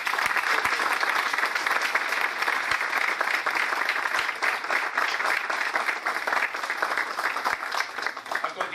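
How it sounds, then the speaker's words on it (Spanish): A crowd at a formal school ceremony gives a musical band loud, sustained applause, dense continuous clapping throughout with no break. "con un fuertísimo aplauso agradecemos la presencia de la banda musical Salvador Terranova"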